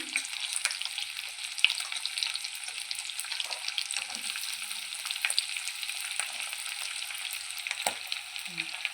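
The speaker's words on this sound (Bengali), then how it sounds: "পেঁয়াজটা একটু ভাজা হোক" Chopped onion sizzles steadily in a hot pan, with occasional scraping stirs and small clinks over the continuous hiss.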